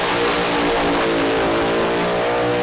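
A Pro Mod drag racing car at the British Drag Racing Championship roars down the strip, its engine a loud, sustained, droning howl that stays close and unbroken throughout.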